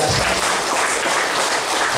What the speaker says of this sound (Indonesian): Boleh tepuk tangan Ibu Kepala Sekolah, luar biasa.